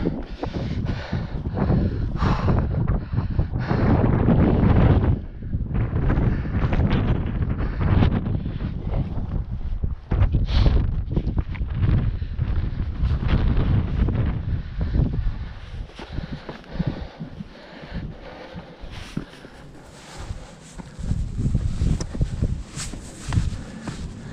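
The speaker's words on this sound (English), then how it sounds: "Starting to hit some wind now." Wind gusts across the Tryfan North Ridge scramble in Snowdonia, buffeting the microphone in loud, rumbling roars that swell and ease continuously for the whole stretch, with no voices.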